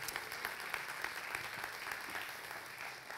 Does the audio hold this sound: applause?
yes